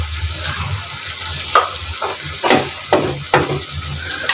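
Boiled chickpeas tipped into hot oily masala in a kadai crackle and sizzle steadily, with a few sharp clinks and scrapes of a spoon stirring against the metal pan, no voices.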